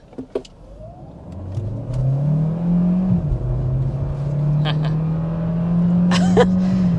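Car accelerating in Eco drive mode, its engine note rising into a steady, loud drone that dips briefly during a gear change and then climbs again, heard from inside the cabin with a few faint clicks.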